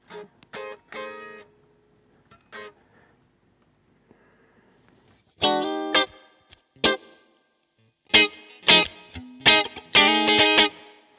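Clean funk electric guitar played through an iOS amp simulator gives short choppy stabs and muted strummed bursts with gaps of near silence between phrases, close and dry.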